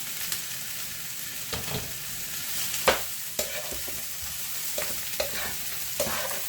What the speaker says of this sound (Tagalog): ibalik po natin yung ating karne.